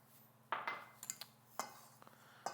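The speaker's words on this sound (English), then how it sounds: "Just whisk in that flour a little bit." A whisk works flour into peach cobbler batter made with milk, heavy cream and vanilla, making faint, irregular clinks and taps against the bowl, a handful of light strikes close by with no talking.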